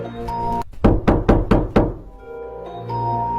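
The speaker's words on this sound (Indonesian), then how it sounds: "Boneka Ambalabu ini akan mengetuk pintu mangsanya terlebih dahulu" Five or six sharp, evenly spaced knocks land on a door, loud and close, over a low sustained musical drone.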